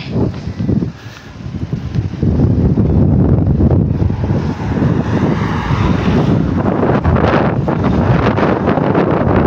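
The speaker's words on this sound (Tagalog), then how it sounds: "Grabe lakas na ng hangin." Strong wind buffets the microphone in a loud, continuous low roar that swells and stays heavy throughout, on a bicycle ride at Burgos, Ilocos Norte.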